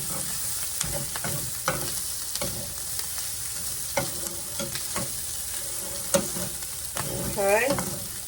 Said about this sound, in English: Mix up my onion and my meat there.